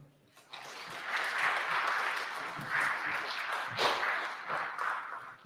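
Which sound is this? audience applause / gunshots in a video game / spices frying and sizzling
audience applause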